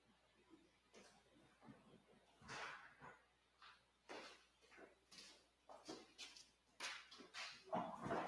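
Dog barking and whimpering nearby in a quiet room, a series of short irregular barks and yips spaced roughly every half second to second, moderately faint.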